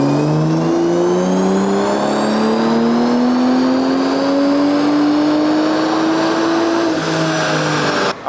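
A 2025 BMW M340i with the Gen 3 B58 engine running E85 makes a full-throttle dyno pull, its engine note climbing steadily and loudly for about seven seconds, then dropping back with a brief lift at the end.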